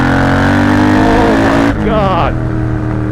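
A Triumph Bobber motorcycle fitted with engine performance mods revs hard in first gear, a loud close engine roar that climbs and then drops sharply partway through, and a voice shouts over it.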